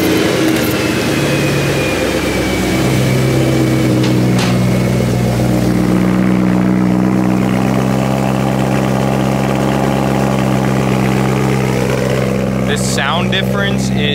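A BMW E90 M3 with a modified exhaust runs close by, a loud, steady, deep idle that holds throughout, with voices talking over it.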